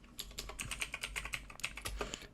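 Fast, uneven keystrokes tap on a computer keyboard as a terminal command is entered, with close, crisp clicks and small pauses over a faint low hum.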